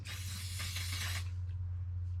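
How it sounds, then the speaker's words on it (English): Maxima SC1 high gloss coating sprayed from a bottle down inside a car's door area, a dense hissing burst lasting about a second over a steady low hum, then fading out. "So I like to spray SC1 down inside there because it's really hard to get to with your hands."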